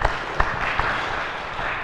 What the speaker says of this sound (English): go on if you feel like clapping,